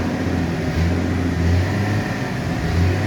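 A 1966 Ford F100 work truck engine idling steadily nearby, a loud, even low rumble with no revving and no talk.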